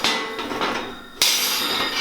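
A metal grill grate set onto 10mm mild steel skewers makes a couple of clanking metallic knocks, the sharpest near the end, with faint rattling in between, close and without talk.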